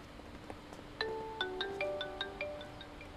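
A phone ringtone plays as a short melody of clear repeating electronic notes, moderately loud against a quiet room, with no one talking.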